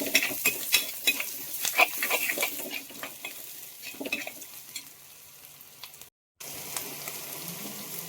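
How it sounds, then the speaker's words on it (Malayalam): Ginger and a pinch of lump asafoetida frying in a pan, stirred with quick, close scraping strokes over a steady sizzle, which briefly cuts out before the frying resumes. "കായം കൂടി ചേർത്ത് നമ്മൾ ഇളക്കുവാണ്"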